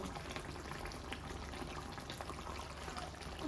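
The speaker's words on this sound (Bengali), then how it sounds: "এখন আমি ধনিয়া পাতা ধুয়ে" Coriander leaves are rinsed under water, producing a quiet, continuous watery splashing and trickling with no talk.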